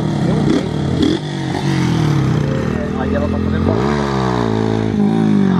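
A Honda Titan 160 motorcycle doing a wheelie, its engine droning and revving loudly nearby with rising and falling pitch, under people talking.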